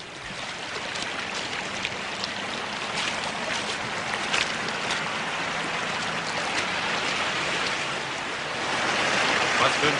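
A mountain stream rushes steadily with a broad, hissing wash of flowing water, continuous and close, swelling slightly louder toward the end.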